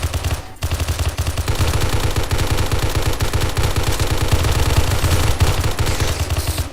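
Rapid automatic gunfire from a modded gun in 7 Days to Die, a loud continuous stream of close shots after a brief opening burst and a short gap.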